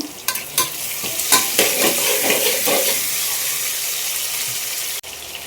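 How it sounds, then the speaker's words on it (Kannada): Tomato fries in a pan for tomato pulao as a spoon stirs it, giving close clinks and scrapes over a steady sizzle that settles into a softer, even hiss. "ಚೆನ್ನಾಗಿ ಫ್ರೈ ಆಗಲಿ. ಆಮೇಲೆ 1 ಟೊಮ್ಯಾಟೊ"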